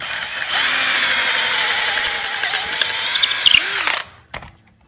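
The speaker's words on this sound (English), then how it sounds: "The next drill bit size up." A power drill whines loudly as it bores out a wooden dowel peg in furniture for about four seconds, then winds down and stops, followed by a brief clunk.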